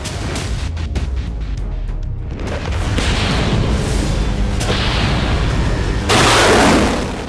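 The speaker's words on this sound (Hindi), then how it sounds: "जिसे धमाके से नष्ट कर दिया गया है।" Deep rumbling explosions and booms roar continuously as a Russian army weapons depot is destroyed, with several sharp bursts cracking through and one especially loud blast near the end.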